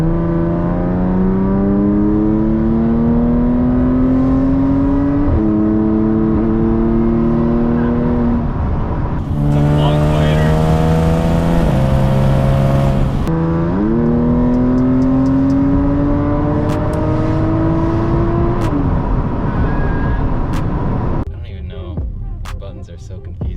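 Audi S4 fitted with an Armytrix exhaust accelerating hard on a test drive, its loud engine note climbing through several gear shifts with a steady throbbing drone, heard from inside the car.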